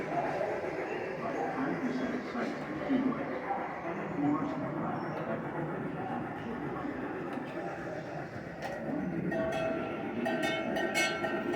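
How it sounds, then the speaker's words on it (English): A train rumbles past steadily in St. Augustine, Florida, with a continuous rolling roar, a few faint clicks near the end, and some quiet voices underneath. "It's the train."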